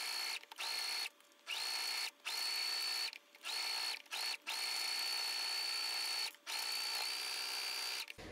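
A sewing machine runs in steady high-pitched bursts while stitching a Christmas stocking seam, stopping briefly several times between runs; no talking.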